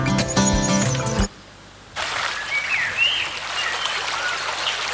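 A forest spot with a soft, steady trickle of flowing water and scattered small birds chirping around it, coming in after a short burst of something else and a brief quiet gap.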